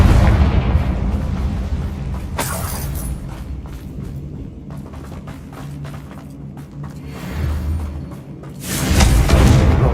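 Confringo spell explosions in Hogwarts Legacy: a sharp booming blast, crackling rumble and scattered pops, then a second loud burst near the end.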